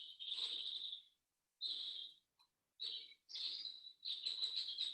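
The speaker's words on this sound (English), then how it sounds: "That's my bird clock." A bird clock sounds recorded birdsong in several bright, chirping bursts separated by short silences, clear and close in a quiet room with no talk.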